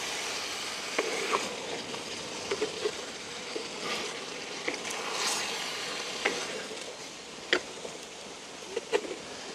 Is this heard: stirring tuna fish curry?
yes